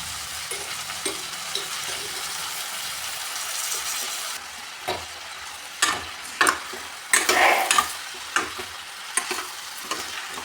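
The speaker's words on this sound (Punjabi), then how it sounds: "ਆਪਾਂ ਗੋਭੀ ਨੂੰ ਹੁਣ ਤੜਕੇ ਦੇ ਵਿੱਚ ਪਾ ਦਾਂਗੇ" Cauliflower tipped into hot tadka gives a steady frying hiss that changes after a few seconds into louder bursts of sizzling, with scraping and stirring knocks from a spoon in the pan through the second half.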